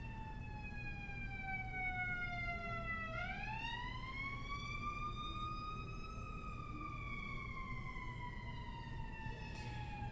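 An emergency vehicle siren wails steadily, its pitch dipping low then sweeping back up in a smooth rising-falling cycle, heard at moderate distance over a constant low rumbling background, with no one talking.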